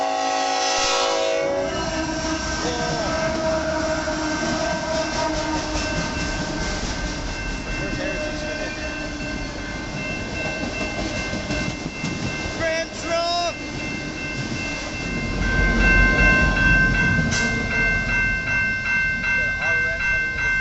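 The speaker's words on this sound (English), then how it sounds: "Hope you guys enjoy this little Autorack train going by" An eastbound autorack freight train passes at Battle Creek, Michigan, sounding its horn in sustained blasts over a steady rumble and rhythmic wheel clatter, with the cars rolling close by and a person talking faintly underneath.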